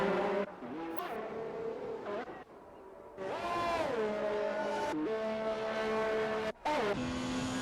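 Race car engine in the racing simulator iRacing, a loud, close, high-pitched whine rising and falling through gear shifts, with brief cuts as the revs drop and climb again.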